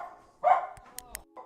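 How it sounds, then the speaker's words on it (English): Dogs bark after a doorbell rings in a home, giving a couple of short, fairly close barks and yips between quieter gaps. "Getting distracted by my dogs barking."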